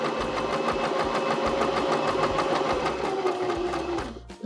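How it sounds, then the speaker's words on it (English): A Baby Lock Zest sewing machine stitching fabric in a quarter-inch piecing seam, a loud, steady rapid motor whir with fast rhythmic needle pulses, running alone and stopping at the end. "now I'm just going to go ahead and I'm going to start to sew"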